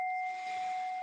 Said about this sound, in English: So I'm gonna ring my bell.